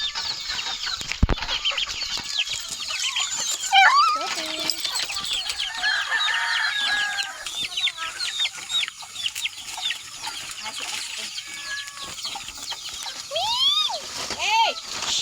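Backyard chickens cluck and squawk steadily alongside a rooster, with several harsh calls rising above the flock, while someone talks over the noise now and then.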